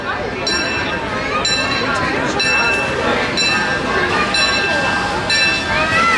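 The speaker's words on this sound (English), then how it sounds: "Here comes a Disneyland train." A Disneyland Railroad train rolls past steadily with a continuous rumble and repeated bright metallic clinks, while people talk nearby throughout.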